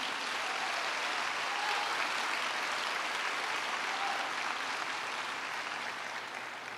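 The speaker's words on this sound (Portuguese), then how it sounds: "aplauda mesmo" Dense, sustained audience applause at a women's church congress, a loud, even wash of many hands clapping without pause.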